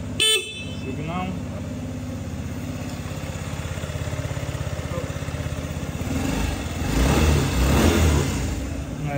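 A 2021 Yamaha Jog YA01 four-stroke scooter's electric horn buzzes close to the microphone over the running engine during an electrical check. The engine swells louder toward the end.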